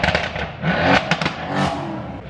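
A modified Mercedes-AMG car engine revs hard nearby in repeated roaring bursts with crackles and pops from the exhaust, loud and with no talking.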